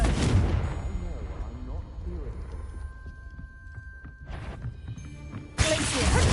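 Confringo spell cast in Hogwarts Legacy, a loud fiery blast with a rumbling burst at the start, smaller crackling impacts through the middle and another strong explosive burst near the end, against game sounds.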